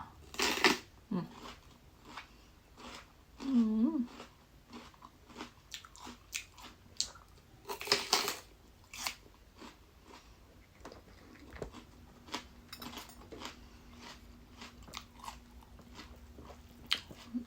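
Crispy food is bitten and chewed up close, with sharp crunchy bites in separate bursts and quieter chewing between them. A faint voice is heard briefly.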